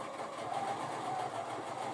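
A sewing machine runs steadily and close while it stitches a 5/8-inch seam on a pillowcase. The motor whirs continuously with a fast, even needle rhythm.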